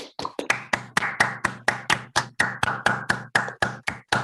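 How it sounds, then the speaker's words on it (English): Applause for a talk introducing quantum computing comes across as a few hands clapping close by in a brisk, even rhythm of about four claps per second, fairly soft and with no voices. "Let's give him a bit of applause."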